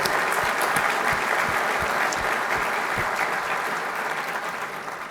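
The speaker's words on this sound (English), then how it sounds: "Let's give Team DHL a round of applause there." Audience applause fills a keynote hall at a corporate tech conference, a steady dense clapping that holds for about five seconds and slowly fades toward the end.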